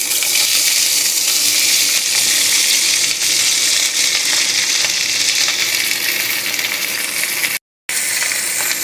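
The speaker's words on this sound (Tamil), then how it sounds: "கொஞ்சம் நல்லா வதக்கி எடுத்துக்கலாம்." Chopped ivy gourd sautéing in a pan, a steady bright sizzle and crackle throughout with occasional stirring scrapes, close and loud, cutting out briefly near the end.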